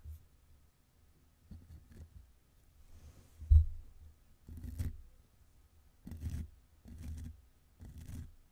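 Small scissors snip and trim eyebrows in a close, quiet waxing-salon setting, heard as soft scattered clicks and a few short bursts of snipping with gaps of near silence between them.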